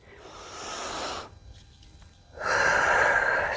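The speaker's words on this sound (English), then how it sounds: "We're going to do 10 breaths, rounds of breath. So inhale, exhale, inhale, exhale" Deep breathing during a morning strength and mobility routine: a long, loud airy exhale, a quieter pause, then a strong rushing breath, close and clear with no talking.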